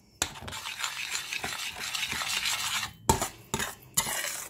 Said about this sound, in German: Umrühren.